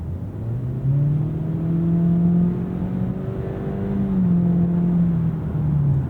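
Acura ADX A-Spec compact SUV pulling hard under acceleration in sport mode with active engine sound off, heard from inside as a steady rising engine drone and whir that climbs, dips at a shift and climbs again, with no talk.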